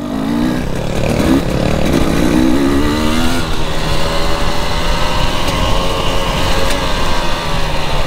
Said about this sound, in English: Oh, that makes me giggle when I hear this bike.